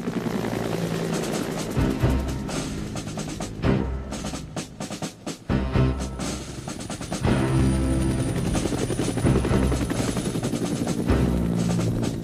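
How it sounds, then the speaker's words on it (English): A helicopter's rotor thumps and engine roar fill the clip, loud and continuous, with a brief dip before resuming. "Davy, have you finished my helicopter yet?"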